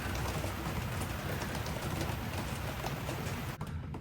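Rainwater drips steadily off the roof of a moored sailboat after a shower, a dense, even patter that fills the whole stretch with no voices.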